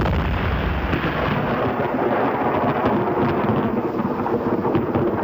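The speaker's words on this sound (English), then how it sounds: "What an explosion! Thunder over Utah!" A massive blast rolls out as a long, dense roar, sustained and broadband like distant rumbling thunder, with no voices.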